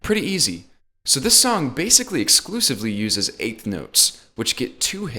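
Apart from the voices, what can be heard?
No distinct noise like a dog, phone or traffic.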